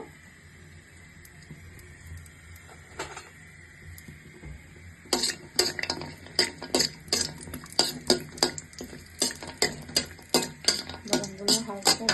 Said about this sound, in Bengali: বাদামগুলো হালকা একটু ভেজে নেবো